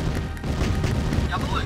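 Gunfire and explosive bursts from the Command & Conquer strategy game, a dense, continuous barrage of shots and booms with game effects layered over it and a short whooshing sweep near the end.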